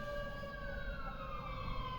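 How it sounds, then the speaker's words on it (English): A fire truck siren wails steadily with rising and falling tones, heard from a moderate distance over a low traffic rumble. "Listen to the sirens coming down the road there. Sirens. We got a fire truck."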